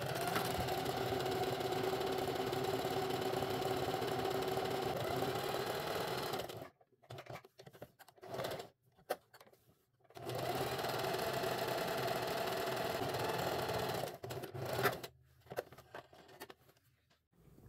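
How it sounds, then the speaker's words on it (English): A sewing machine top stitches a tote bag strap in two long runs of fast, steady, close-up whirring, separated by quiet pauses with small handling clicks. "Now you're going to do a top stitch around the entire perimeter."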